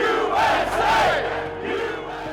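A huge outdoor crowd at Virginia's Lobby Day gun rights rally roars and cheers together in a loud, sustained swell of many voices.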